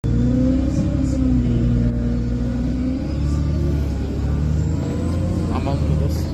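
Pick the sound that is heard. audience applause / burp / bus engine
bus engine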